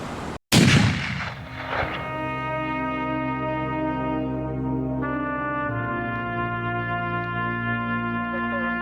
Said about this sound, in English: Shots fired. Officer down.